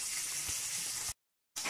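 Galunggong fish fry in hot oil in a pan, giving a steady bright sizzle that cuts out briefly and then resumes.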